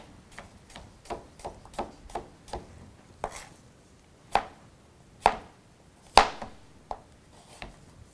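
A knife chopping cucumber on a cutting board, a series of crisp close knocks, quick and regular at first, then slower with longer gaps between cuts, with no talking.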